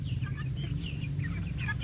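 Free-range village chicks (ayam kampung) feeding in an outdoor run, giving a constant chorus of small peeps and clucks over a low, steady background hum.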